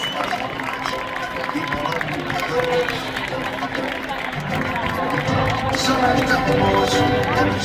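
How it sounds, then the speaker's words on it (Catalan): Stadium stand crowd at a Badalona versus Barça women's cup match, a dense, sustained rumble of clapping and crowd noise that swells louder toward the end, with an announcer's voice over it. "I ara la grada de tribuna és el moment d'aplaudir fort i demostrar quina és la grada."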